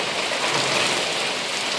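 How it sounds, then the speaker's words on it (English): Heavy, windswept rain pours in sheets during a July thunderstorm in Queens, New York City, a dense, steady hiss that fills the whole clip without a break, loud and close, with no voices and no audible thunder. "This is sheets of rain."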